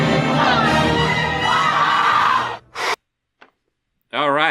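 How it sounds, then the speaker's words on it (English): A cinema audience at a Star Wars screening screams and shouts loudly together for about two and a half seconds, then the noise cuts off abruptly, followed by brief bursts of sound. "A random example of people screaming during a screening of Star Wars."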